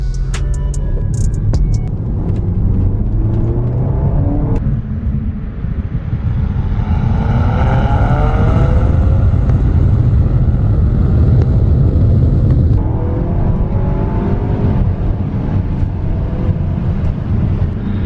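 An Audi A4 with a CTS turbo and stage 2 exhaust accelerates at full throttle on a residential street, a loud rising engine and exhaust roar climbing through gear changes, with a brief pause before pulling hard again.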